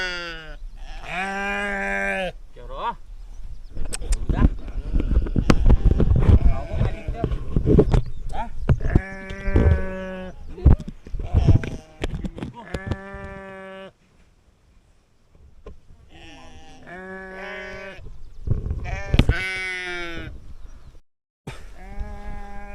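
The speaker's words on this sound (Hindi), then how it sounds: "और ये देखो भेड़" Sheep bleat repeatedly along a mountain trekking trail near Khaliya Top in Munsiyari, with several clear, wavering calls in separate bursts over wind and handling noise, and voices talk in between.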